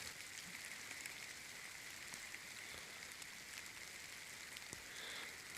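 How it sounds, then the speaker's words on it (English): Rain begins falling on a forest hiking trail in the Allegheny National Forest, a soft, steady patter and hiss of drops on leaves and ground, faint and continuous with scattered sharper drips and no talk. "It's starting to rain."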